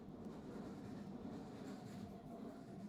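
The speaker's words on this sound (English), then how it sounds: "Oh, train." A train rolls past in a cozy antiques-shop game, a faint, steady low rumble and rattle of rail cars continuing throughout with no talk over it.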